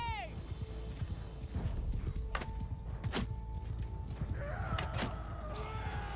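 Hooves of many horses clatter in rapid, uneven clip-clop rhythms during a Bannerlord battle against horse archers, with sharp impacts and occasional whinnies, mixed with someone talking over the scene.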